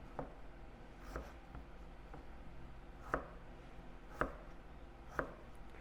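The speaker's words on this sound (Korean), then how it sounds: "그래서 조금 큼지막하게 2cm 곱하기 2cm 정도 이렇게 조금 큼지막하게 썰게요" A kitchen knife chopping vegetables for curry into large 2 cm pieces on a cutting board, a quiet run of sharp, irregular thunks close by with a few louder strokes.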